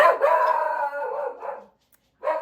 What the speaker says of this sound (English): that was the dog going nuts because he hates the UPS truck